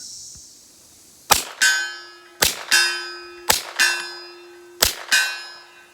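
Four sharp, suppressed gunshots from a Kel-Tec Sub 2000 9mm carbine firing 147 grain rounds, spaced about a second apart, each a loud crack followed by a metallic ringing clang, nearby with quiet gaps between.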